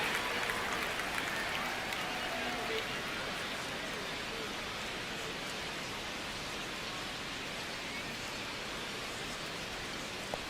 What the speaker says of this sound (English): And the crowd not liking that, and I don't blame them